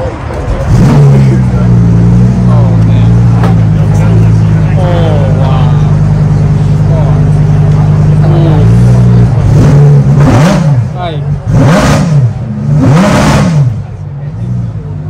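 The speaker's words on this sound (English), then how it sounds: "Just because of that insane engine sound through that carbon fiber airbox in the cabin." A Porsche GT4 RS at a cars-and-coffee gathering on a race circuit, its engine idling loudly up close and then revving in several sharp, rising bursts near the end.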